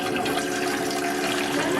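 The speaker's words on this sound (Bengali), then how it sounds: "প্রথমে আমি এর মধ্যে জল দিয়ে দেব।" Water pouring steadily into a bowl while preparing chicken pakora, a continuous close, fairly loud splashing stream with no pauses and no talk.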